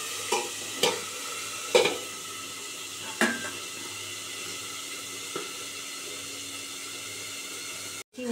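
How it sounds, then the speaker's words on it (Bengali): A fish head fries in very hot oil, with a steady hiss and sizzle, broken by several sharp scrapes and clanks of a utensil against the pan, then a brief cut near the end. "ভালো করে ভেজে নেব মাছের মাথাটা,"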